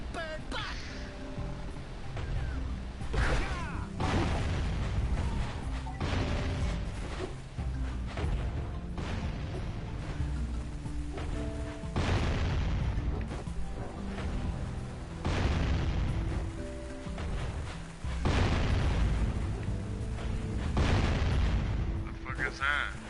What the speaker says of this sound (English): It's a cannon.